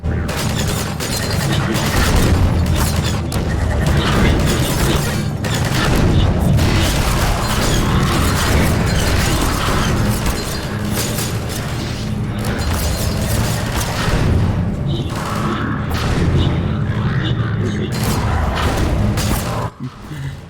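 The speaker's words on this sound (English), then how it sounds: "Our stop is all the way up there, where all those guys are shooting at us." Enemy gunfire in the Half-Life 2 video game, a dense and continuous barrage of loud shots and booming impacts mixed with game noise, with no pause for about twenty seconds.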